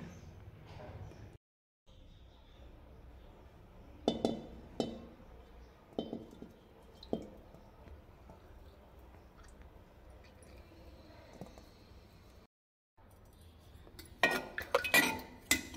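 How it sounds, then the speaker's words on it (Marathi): A utensil stirs onion pickle and oil inside a glass jar, making scattered bright clinks and knocks up close, with quieter scraping between them and a voice talking at times. "लोणचं टाकून मी तेल टाकून मी छान लोणचं हलवून देते"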